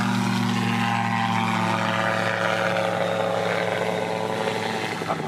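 A small propeller airplane climbing out after takeoff gives a steady droning engine tone with a slowly shifting pitch, fairly faint and distant, with no talking.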